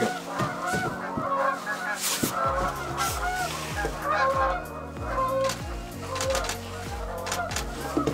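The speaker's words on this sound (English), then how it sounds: "besides those Canada geese that just flew away" Canada geese honk repeatedly, a busy overlapping chorus of loud nasal calls that carries on throughout with little pause.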